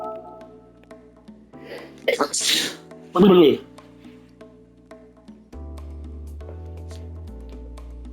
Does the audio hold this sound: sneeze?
yes